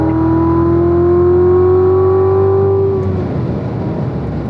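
Race car accelerating hard out of a corner at the Spring Mountain track, its engine a loud, steady drone that climbs smoothly in pitch before easing off and fading into rough road and wind noise.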